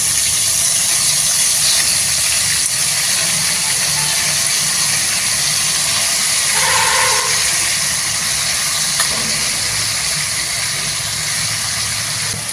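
Bitter gourd pieces hit hot oil in a pan and sizzle in a loud, dense, continuous hiss close by, with faint mechanical clicking in the background.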